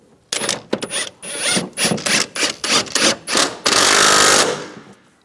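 A ratchet tightens transmission mount bolts on a 1998-2010 Volkswagen Beetle, with loud close bursts of rapid clicking, short pauses between strokes, then a longer continuous ratcheting run.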